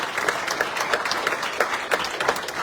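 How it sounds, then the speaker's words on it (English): Audience applause at a town council meeting, steady dense clapping from a crowd in a hall, moderately loud and continuous with no talk over it. "Let's give them a round of applause."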